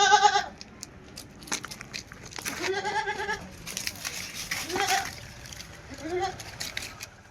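A small Malabari cross dairy goat bleats several times in short, wavering calls spaced a second or two apart, close and fairly loud over rustling and soft background noise.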